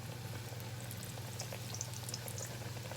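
Buttermilk apple fritters frying in oil in an old home fryer, a quiet continuous bubbling sizzle with a low steady hum underneath.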